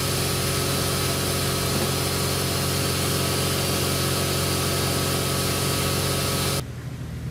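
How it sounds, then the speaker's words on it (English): Air compressor running steadily and loudly in a car repair shop, a continuous dense mechanical drone with no talk, cutting off abruptly just before the end. "Of course, we've got to have a little bit of air compressor action."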